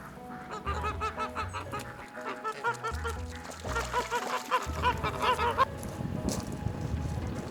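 Geese on a farm honk repeatedly in a busy, overlapping chorus that runs throughout, loud and close, with other fowl-like squawks mixed in.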